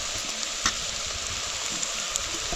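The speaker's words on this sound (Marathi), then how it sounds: "तर फक्त फोडणी देऊया आणि परतूया" Tempering sizzles steadily in hot oil while moringa leaf vegetable cooks with onion, turmeric, salt and spice masala, a close, continuous hiss with a few brief clicks of stirring.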